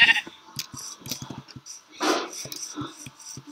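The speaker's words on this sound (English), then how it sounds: "where'd that sheep go? I want to kill the sheep before nightfall" Sheep bleating in the Minecraft video game, a wavering bleat rising midway and standing out among clicky game sounds and a person talking over the gameplay.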